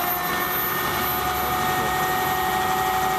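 Electric boat motor on the NedCraft running at 750 RPM on the Nieuwe Meer, a steady, loud whine with a constant tone, no voices.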